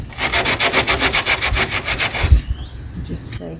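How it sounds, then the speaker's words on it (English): Rhythmic back-and-forth scraping of sandpaper worked by hand over wood in an old German farmhouse, about a dozen even strokes close to the microphone, then a dull knock and quiet. "I'm going to try sanding it off."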